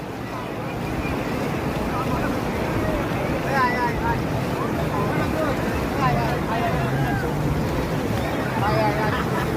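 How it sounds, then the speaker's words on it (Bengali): Big ocean waves roll in at Laboni Point on Cox's Bazar beach in Bangladesh, a broad, continuous surf wash mixed with strong wind buffeting the microphone and voices nearby. "ঢেউ একবারে অনেক বড় বড় ঢেউ আসতেছে এখন।"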